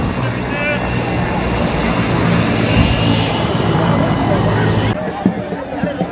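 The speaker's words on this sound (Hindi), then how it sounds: "हेलीकॉप्टर बंबू गांव में लैंड कर चुका है।" Helicopter landing in a desert village with sand dunes in Rajasthan, a loud, steady rotor and engine roar lasting most of the moment and then cutting off, with crowd noise and murmuring voices underneath.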